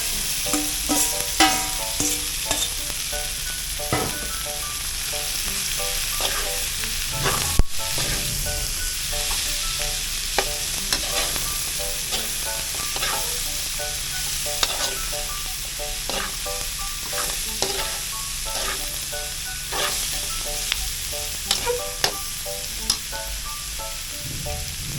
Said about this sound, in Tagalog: Lagay natin yung langka na pinakuloan na natin.